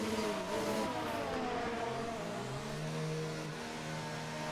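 An F1 2019 race car engine in the video game, a steady mid-pitched engine drone with gently shifting revs that holds for several seconds without speech.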